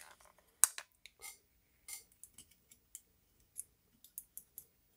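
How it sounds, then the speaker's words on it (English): A micro SD card is pushed into and ejected from a newly installed connector on a Tascam DR-05X recorder, giving a series of small, sharp plastic clicks and snaps at irregular intervals against near silence. "let's see if the SD card goes in and out"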